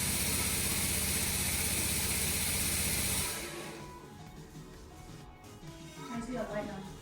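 Water-methanol injection kit from a Snow Performance Stage 2.5 setup on a 2014 Mustang, spraying as a loud, steady hiss for about three seconds before cutting off, followed by quieter background noise and talking.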